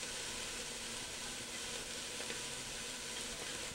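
Garlic and seasonings sizzling steadily in a pan for Bolognese sauce, a continuous even hiss of frying with no talk.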